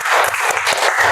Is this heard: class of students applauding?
yes